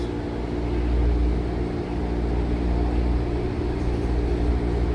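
Shuttle buses serving a commuter rail station on the Stoughton line run with a steady low engine rumble and broad hum, continuous and moderately loud, without voices.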